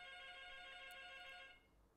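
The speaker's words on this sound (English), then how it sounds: "there's a phone call, just a second." A phone rings in the middle of a classical mechanics lecture, a steady electronic ringtone of layered tones that carries on for about one and a half seconds and then cuts off, heard at moderate distance in a quiet room.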